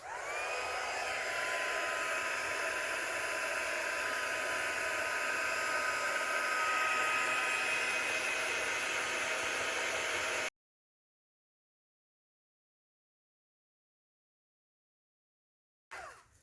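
Heat tool blowing hot air to set texture paste on a card, a steady whooshing hiss with a faint whine that runs for about ten seconds before cutting off, followed by silence and a brief restart at the end.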